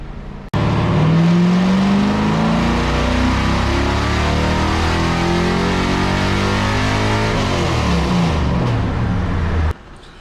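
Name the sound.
C4 Corvette engine revving during a tuning run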